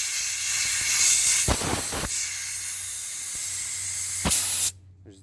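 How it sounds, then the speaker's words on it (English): Compressed air from an air compressor nozzle blasts through a sponge filter at a lily pond, a loud continuous hiss with two sharper bursts before it abruptly cuts off near the end. "we've got our air compressor. And all I'm gonna do is put the nozzle right on there"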